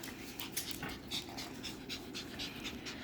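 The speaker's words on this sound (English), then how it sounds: "Inside, for sale, the saddest dog." A dog pants steadily and rhythmically, close by and fairly loud, with quick breaths repeating throughout and no talk over it.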